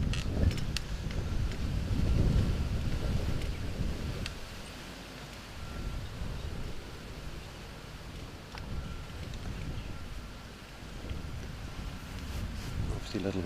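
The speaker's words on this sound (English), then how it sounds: "Obviously a little bit of a gust of wind there." Wind gusting outdoors at a women's world golf croquet championship, a steady broadband rush that swells early on, with commentators talking over it throughout.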